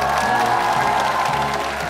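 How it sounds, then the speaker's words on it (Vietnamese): A game show studio audience applauds and cheers a winner, a dense, steady wash of clapping with scattered whoops that stays loud and even throughout, with voices mixed into the crowd. "Chúng ta cho một tràng pháo tay để chúc mừng cho bạn Ngọc Hân nha"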